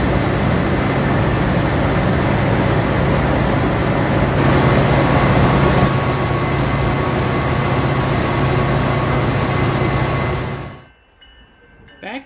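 An F40PH diesel passenger locomotive engine roars steadily at close range with a constant high whine, then cuts off abruptly near the end, leaving near silence.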